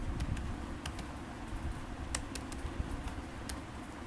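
Faint, sparse clicks of keys typed on a computer keyboard, a handful of separate taps spread over a few seconds against a steady low background hum.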